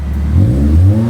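Honda Civic Dimension with a custom exhaust system giving a brief, loud, deep rev, the low engine note rising and holding for about a second, close up.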